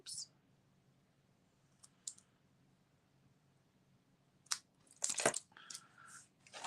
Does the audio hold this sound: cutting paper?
yes